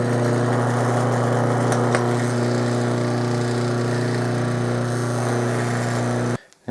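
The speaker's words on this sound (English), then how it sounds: "Now I'm going to use the bench motor to drill the holes." A benchtop drill motor runs steadily and loud, boring holes in small pieces of metal, with a constant hum throughout before cutting off abruptly near the end.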